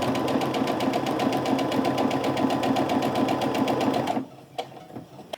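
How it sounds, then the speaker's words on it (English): Sewing machine running steadily and close while stitching quilt pieces for a strip-pieced half-square-triangle block, a fast continuous rhythmic whir for about four seconds that then stops, leaving a few faint handling clicks. "and then we're ready to sew this together."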